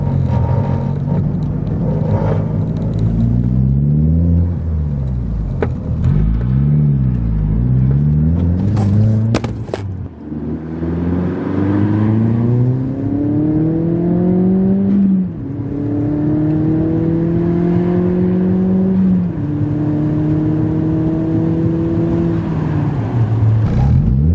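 A turbocharged 1.8-litre Mk4 VW GTI engine revs repeatedly, rising and falling in pitch, then holds long climbing pulls with a whirring, boosted edge, loud and close.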